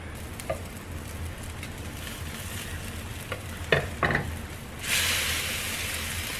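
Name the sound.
tuna patties frying in a pan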